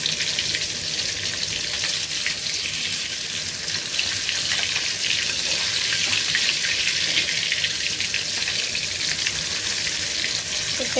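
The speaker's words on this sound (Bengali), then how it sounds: "এখানে যে মাছটা ভাজতে পেয়েছি" Fish sizzles and spatters steadily in hot oil, three fish frying in a home kitchen pan with a bit too much oil, a dense continuous crackle filling the whole stretch with no voices over it.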